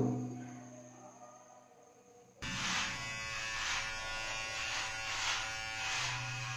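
An electric shaver trims and shaves a beard. After a quiet start, its steady close buzz switches on and runs continuously, rising and falling slightly as it moves across the stubble.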